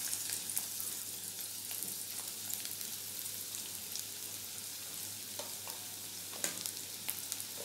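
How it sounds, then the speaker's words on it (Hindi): Bay leaf and onion frying in hot oil in a home kitchen for a spicy mixed vegetable dish, giving a steady soft sizzle with small crackles and pops throughout, fairly quiet and close, with no talking. "हमारा तेल गर्म हो चुका है, तो अब इसमें ये तेज़पत्ता डाल देंगे और ये प्याज।"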